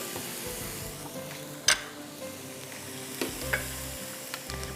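Beef mince frying with cubed onion in a pan sizzles steadily and close, while a spoon stirs and breaks up the meat with occasional scrapes and clinks.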